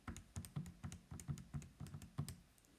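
Steady run of quick plastic key taps as numbers are punched into a calculator, about a dozen evenly spaced clicks in close succession, soft and near with no voice.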